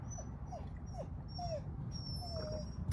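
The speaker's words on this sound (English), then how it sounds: "I better do something with my dog. He keeps crying." A dog whimpers and cries in a winter greenhouse, making a string of faint, high, sliding whines against a steady low background hum.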